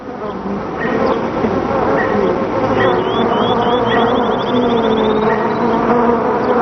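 A honeybee swarm clustered outdoors gives off a loud, dense, continuous buzz, close and steady, with individual wingbeat whines rising and falling over the droning mass.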